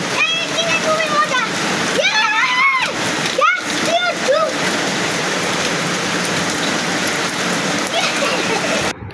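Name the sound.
rain falling and splashing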